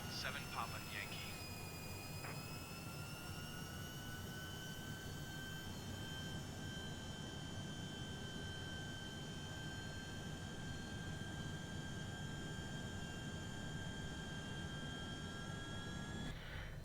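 A small H Jet aircraft taxiing in, its jet engine giving a steady, loud whine with a high tone that holds level throughout and a constant rumbling hum beneath it.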